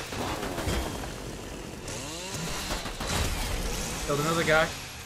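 A chainsaw in the video game Fortnite revs with rising and falling whines over busy game noise, growing louder near the end of the stretch.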